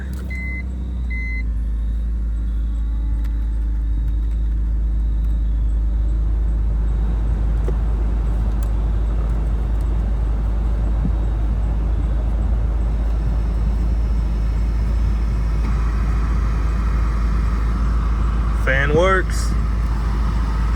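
A farm-use BMW E46 with a large coolant leak starts up and settles into a low, steady idle rumble close by. Brief voices and a short chirp appear near the end.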